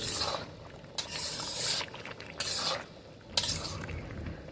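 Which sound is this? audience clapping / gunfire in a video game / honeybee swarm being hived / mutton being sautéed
mutton being sautéed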